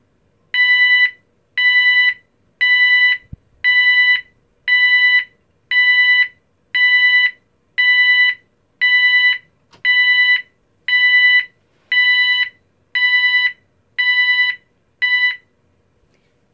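An E2S A100DC24R electronic sounder plays the British Standard backup alarm tone used on forklifts and warehouse vehicles: thirteen loud, even, piercing beeps pulsing once per second, with silence between and after.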